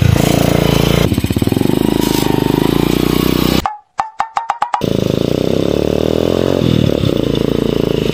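The engine of a motorcycle taxi chugs at a steady, close idle, then abruptly cuts out and sputters through a few dying coughs before it catches and runs again, with no talking over it.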